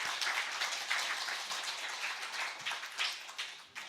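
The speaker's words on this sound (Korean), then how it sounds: "우리 자녀들을 축복하면서 여러분들이 박수를 한번 주시겠습니까?" A church congregation applauds the church school children during a Thanksgiving worship service, a steady wash of quiet, fairly distant clapping that carries evenly for a few seconds with small swells.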